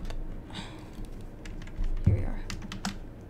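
Light keyboard typing comes in a few scattered bursts of clicks on a computer keyboard, close and fairly quiet, with a thump and some soft room noise between the keystrokes.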